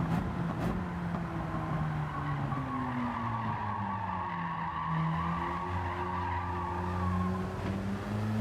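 Race car sliding through a corner in Gran Turismo 7 at Monza, with a steady engine drone and sustained tire squeal rising and falling over several seconds, loud and continuous without any talk.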